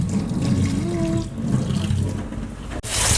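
Hot water streams from a faucet into a pot of chicken biryani, a steady, close rushing pour with a faint tonal ring, cut briefly near the end before resuming.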